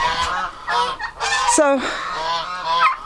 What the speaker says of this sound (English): That's where the birds are at.